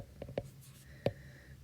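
Writing on a board during a math lecture: a few faint, quick taps and strokes of the marker or chalk in a quiet room.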